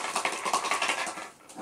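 Small objects, a pearl, a hazelnut and a pebble, rattle and roll inside a closed shaker, giving quick, light clicks and patters close by that fade near the end.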